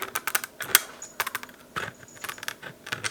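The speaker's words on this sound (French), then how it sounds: "je prends mon ciseau et je viens couper" Scissors cut through a laminated plastic divider tab in a series of crisp, close snips and clicks, with small rustles between the cuts.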